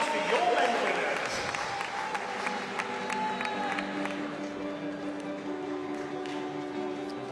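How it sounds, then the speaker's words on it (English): Applause and crowd noise fill a large indoor pool arena as swimming medal winners at the 2015 IPC Swimming World Championships in Glasgow are honoured, steady clapping and cheering washing through the hall with announcer-style voices and tonal echoes over it. "Ladies and gentlemen, a round of applause for your men winners."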